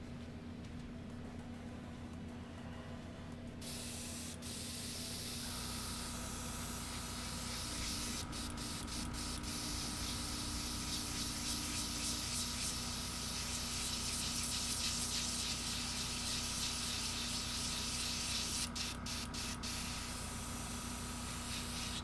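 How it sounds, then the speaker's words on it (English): Airbrush being cleaned out, a steady close spray hiss that starts suddenly and then runs on continuously, joined by a low steady hum and a few brief sputters. "Giving the airbrush a good clean out."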